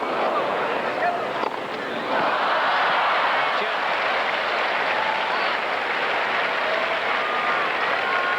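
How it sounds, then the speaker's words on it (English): Tennis crowd applauding and cheering for Todd Martin at the 1994 US Open, a steady dense roar of clapping and voices filling the whole stretch at close, even loudness. "Cheering for Todd Martin, wanting more tennis here."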